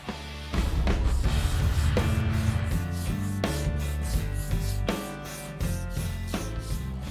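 Rhythmic rasping strokes of a sanding block scrubbing a car body, repeated back and forth at a steady pace, close and loud.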